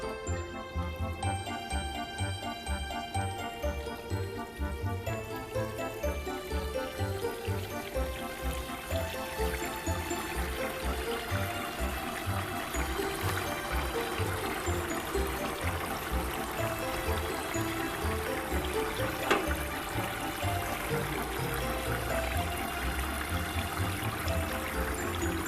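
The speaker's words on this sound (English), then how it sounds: "Simply add water to the water tub at the indicated level" Water pours and splashes steadily into the water tub of a tile saw, a continuous bright trickling rush with faint tinkling at the start.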